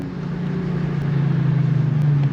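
An Infiniti Q50 fitted with test pipes rumbles steadily as it downshifts, a loud, deep engine and exhaust drone held close and continuous with a slight rise toward the end.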